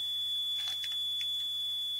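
A steady high electronic tone from a Karl Fischer moisture-testing apparatus signalling its endpoint, continuous and moderately loud through the moment, with a few soft clicks over it.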